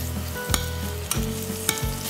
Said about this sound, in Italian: Facciamo rosolare a fiamma abbastanza vivace.